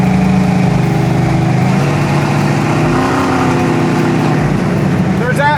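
A 1971 Chevelle SS V8 with MSD ignition idling loud and close without choke on a winter day, a steady rumbling lope filling the whole stretch while a voice talks over it.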